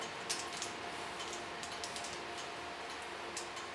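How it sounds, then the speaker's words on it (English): Small scissors point-cut the dry ends of a client's hair in a salon, giving soft, close, irregular snipping ticks over a steady background hiss. "use the small point cut technique, take off only the dry ends"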